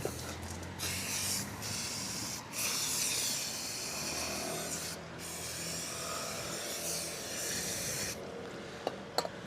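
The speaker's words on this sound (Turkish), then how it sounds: "Bir daha balata spreyi." A steady aerosol hiss runs for several seconds with brief pauses, close by, as brake cleaner is sprayed in bursts onto a part while changing the drive belt on a Mondial Wing 50cc scooter.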